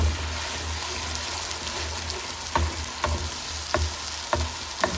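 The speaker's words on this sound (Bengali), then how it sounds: "মশলাটা কষানো হোক।" Spices, onion and a little ginger paste fry in oil for a tengra fish curry with tomato and potato, giving a steady close sizzle broken by a few soft scraping clicks from stirring.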